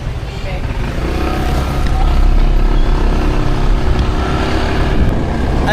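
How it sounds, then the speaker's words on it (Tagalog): A motorized tricycle engine drones steadily and loud from close by during a ride, its low rumble building slightly after the first couple of seconds, with voices audible over the noise. "Yung tricycle na inarkila namin."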